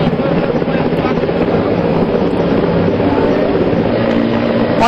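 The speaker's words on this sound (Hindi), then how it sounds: "हेलीकॉप्टर के जरिए इन्हें बचाने की कोशिश हो रही है" Loud, constant rotor drone of a rescue helicopter hovering over the flooded Tawi river, steady throughout with wind buffeting the microphone.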